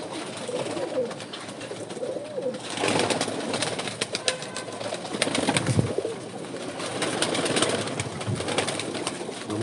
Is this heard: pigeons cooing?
yes